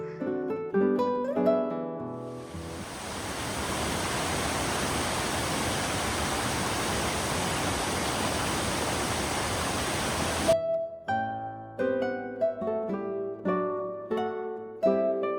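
A mountain brook flows near a backcountry hut in the Pemigewasset area, a steady broad rushing hiss lasting several seconds, set between bursts of unrelated plucked music.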